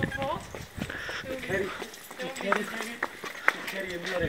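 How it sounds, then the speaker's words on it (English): A donkey's hooves clip-clop on the stone stairs up to the Petra Monastery, with close, irregular hoof strikes under nearly constant conversation from the riders. "We're riding a donkey up the stairs to the monastery."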